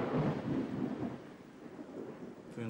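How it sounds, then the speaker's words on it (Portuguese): Thunder rumbles through a stormy sky, a low rolling roar that swells loud at the start and slowly fades, with faint rain texture beneath and no talk. "Eu gosto de trovoada."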